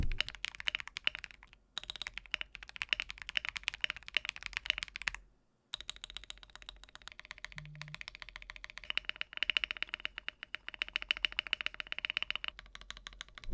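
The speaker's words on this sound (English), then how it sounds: "Here's a quick sound test" Keys on an Akko MOD008 mechanical keyboard with foams installed clack steadily in fast, dense bursts with a couple of brief pauses, close and fairly muted with a slight pop.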